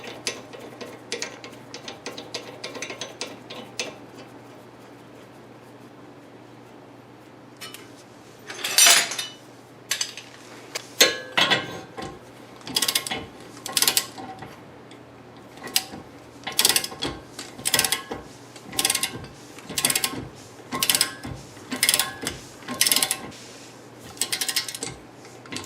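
A ratchet clicks in repeated bursts while a tie rod is broken loose from the steering knuckle of a 2001 Lexus IS300 front suspension. There is quiet fiddling first, then close, sharp, rhythmic ratcheting strokes with brief pauses.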